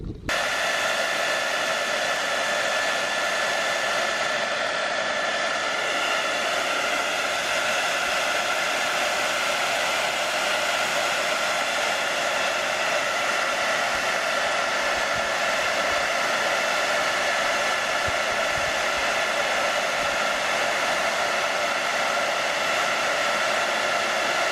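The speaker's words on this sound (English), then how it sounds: "So I go grab a heat gun." A heat gun blows steadily and loudly for the whole stretch, a continuous broadband hiss-roar used to soften the glue on a Toyota MR2's Ganador mirror glass, with no talking.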